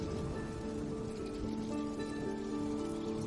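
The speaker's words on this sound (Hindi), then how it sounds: "एक दिन बारिश हो रही थी।" Steady rain falls continuously, a dense even patter with no breaks or voices.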